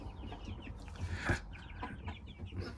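Young chickens cluck softly at a farmyard feeder, a faint, continuous stream of overlapping peeps and clucks with one louder call partway through.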